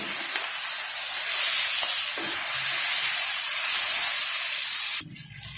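Desi chicken karahi with salt, garam masala and yogurt fries over high heat in a pan, a loud, steady sizzle and hiss with faint stirring clicks that cuts off abruptly near the end.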